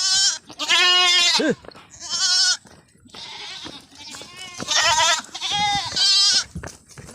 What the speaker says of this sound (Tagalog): Dalawang kambing niya.